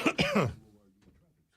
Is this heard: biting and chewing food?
no